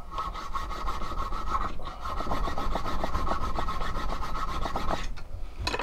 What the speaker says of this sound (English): I'm probably just going to file it with mine.